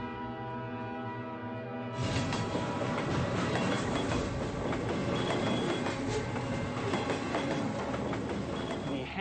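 A train rumbles past with rhythmic clickety-clack of wheels on rails and a horn-like tone, loud and steady, beginning after a brief lead-in and continuing to the end.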